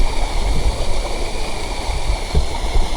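A small waterfall on a windy hillside trail pours steadily, giving a loud, even rush of flowing water with no talking.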